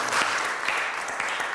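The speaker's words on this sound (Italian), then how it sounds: "Facciamo un applauso." Steady applause from an audience at an Italian gathering, a broad wash of many hands clapping together at moderate loudness throughout the short stretch.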